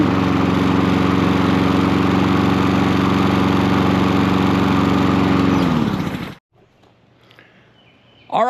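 A Honda small engine with a new replacement carburetor runs smoothly at a steady, loud hum for about six seconds, then shuts down and winds off into near silence before a brief noise at the end.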